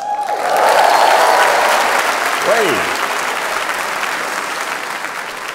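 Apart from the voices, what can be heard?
audience applause at a comedy show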